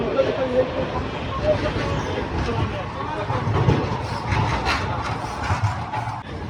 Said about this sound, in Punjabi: ਲੈ ਬਈ ਇਹ ਤਾਂ ਹੋਰ ਟ੍ਰੇਨਾਂ ਜਾਈ ਜਾਂਦੀਆਂ ਇੱਥੋਂ